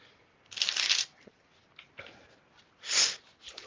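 Playing cards are shuffled close up in several quick riffling bursts, each a crisp fluttering rush lasting under a second and separated by short quiet gaps.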